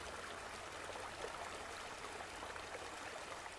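Steady rushing of a flowing waterfall, an even broadband wash of water with no breaks, heard alone at moderate level with no voices.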